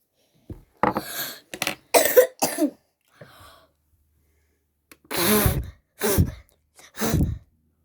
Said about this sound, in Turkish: Öksürecektim çünkü.